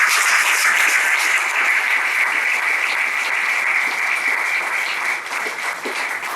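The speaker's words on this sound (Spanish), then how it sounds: "denle un fuerte aplauso al Señor." A church congregation applauds loudly, sustained dense clapping from many people in a worship hall that continues without pause and fades slightly toward the end.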